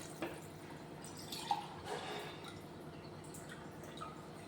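Water pours into a pot of rice for an aloo matar pulao, a soft, quiet trickle with a few light splashes and drips close by.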